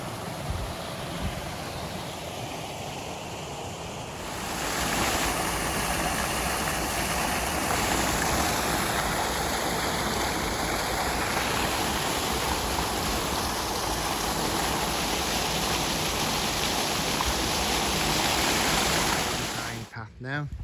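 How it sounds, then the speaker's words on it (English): A river rushes steadily along the Pennine Way between Crowden and Meltham, a loud, continuous broadband roar of flowing water that swells slightly partway through and holds close and unbroken throughout. "So look, right down at the river,"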